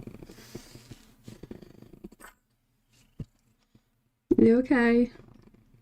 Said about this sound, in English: You're purring too much. You need to stop purring.